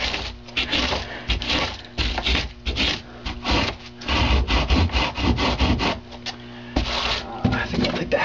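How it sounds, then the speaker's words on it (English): Hacksaw blade shaping extruded foam for model railroad scenery, giving steady rhythmic rasping strokes back and forth, close and fairly loud, with brief pauses between runs of strokes. "hacksaw blades are sturdy enough for doing something like this"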